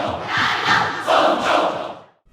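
A crowd chants a short two-part cheer twice in quick succession from the Super Smash Bros. game on 3DS, loud and slightly compressed, ending abruptly in silence.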